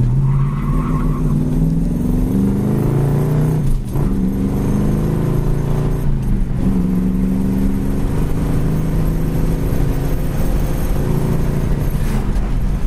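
A 1966 Ford Mustang with a carburetor drives on the road and accelerates, its engine droning loud and steady as the pitch rises through the gears, with brief dips at the shifts and no talking.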